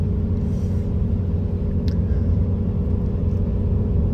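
A 2021 Ram single-rear-wheel diesel pickup strains uphill while hauling a heavy diesel forklift, giving a steady low engine rumble and drone that stays constant from start to finish.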